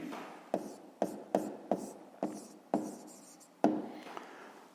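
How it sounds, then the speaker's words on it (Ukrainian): A pen writes by hand on paper while a 5th-grade math exercise is worked out. Eight or so short, close scratchy strokes come at uneven intervals with quiet pauses between them, and no voice is heard. "І записуємо тоді."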